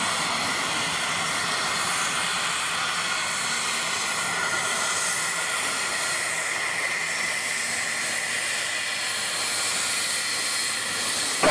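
An aircraft at Cannes Mandelieu airport gives off a steady, fairly loud broadband roar and hiss that holds evenly the whole time, with no voices.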